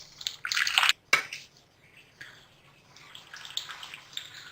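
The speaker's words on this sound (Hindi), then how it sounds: "और साथ ही मैं इसके ऊपर ठंडा पानी डाल दूंगी ताकि ये एक दूसरे से चिपके ना।" Boiled spaghetti is drained in a strainer set over a bowl, with water splashing and gurgling in loud bursts, followed by quieter trickling and dripping.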